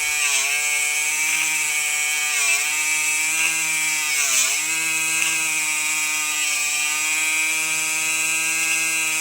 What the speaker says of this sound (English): It's a buffer, grinder, whatever you want to call it.